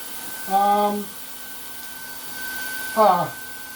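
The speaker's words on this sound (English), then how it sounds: "I'm going to go ahead and do the grommeting applications here." A manual-feed grommet setting machine presses sheet metal grommets and washers into a banner, giving two short mechanical pumps about two and a half seconds apart, close and distinct over a quiet room hum.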